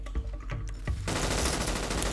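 Rapid bursts of gunfire in Grand Theft Auto V crackle close by, followed by a sustained roar of continuous automatic fire.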